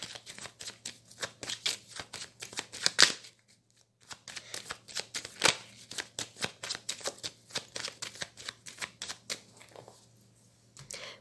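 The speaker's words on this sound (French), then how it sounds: "Je vais faire une coupe avec le tarot que j'utilise pour les consultations." A tarot card deck is shuffled and cut by hand nearby: quick bursts of crisp riffling and slapping, a short pause, then more rapid shuffling that fades out.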